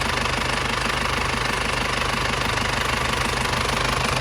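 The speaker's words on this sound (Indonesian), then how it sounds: "Kita nyalakan mesinnya, teman-teman. Kondisi mesin, suaranya masih kental banget" A 1997 Isuzu Panther's diesel engine runs at a steady idle, its low, rough knocking rumble continuing evenly throughout with no voices.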